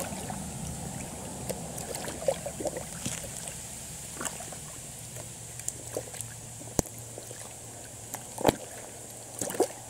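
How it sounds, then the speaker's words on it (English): A deer hide sloshed around by hand in a bucket of neutralizing solution after a battery-acid soak, giving faint, intermittent splashes and sloshing scattered through a quiet close-up scene with no talk. "So I'm going to slosh this around for a good maybe 5 minutes."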